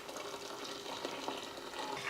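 Boiled milk pours from a vessel into payasam on a switched-off stove in a home kitchen, a soft continuous liquid splash and gurgle heard close and fairly quiet.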